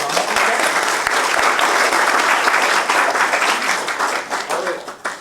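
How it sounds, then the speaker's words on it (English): Dense, sustained applause from an audience at a live event, loud and steady for about five seconds before tapering slightly at the end, with many overlapping claps forming a continuous wash. "Round of applause."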